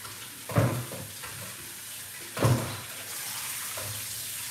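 Tap water runs steadily over beetroot being washed in a sink, with two louder splashing bursts as the roots are handled under the stream.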